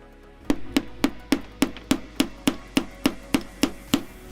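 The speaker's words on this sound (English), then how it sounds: "no matter how much you hammer on it" Steady hammer blows ring out in a workshop during a puppet build, about a dozen sharp, evenly spaced strikes roughly every quarter second, loud and close with no talking.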